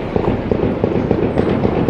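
Gunfire erupts near the Primature during a presidential installation, a dense, continuous crackle of rapid, overlapping shots that keeps going steadily throughout, with no clear pauses and no speech.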